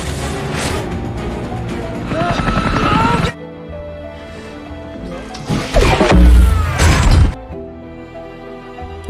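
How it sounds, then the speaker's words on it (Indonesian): Film action scene in which cannon fire blasts an enemy helicopter: a loud rumbling engine and crash burst, a quieter lull with tonal music, then a second heavy explosive smash with debris before fading. "berhasil menembakkan meriam tersebut tepat, dan membuat hancur helikopter musuh"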